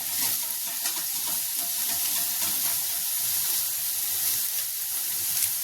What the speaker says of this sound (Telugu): కట్ చేసి పెట్టుకున్న ఉల్లిపాయలు, ఉల్లిపాయలు బాగా ఎర్రగా ఫ్రై చేసుకోవాలి